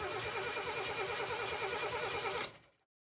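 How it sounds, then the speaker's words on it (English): Six-cylinder car engine cranking over in a steady rhythmic churn, loud and close, for about two and a half seconds before cutting off abruptly into silence. "all we need to do is turn the engine over and see if all of those LEDs fire"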